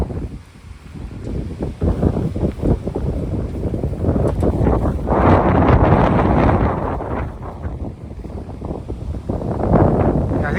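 Strong wind gusting at a coal mining museum, roaring buffets that batter the microphone in surging waves, louder in the middle and toward the end, with no talk.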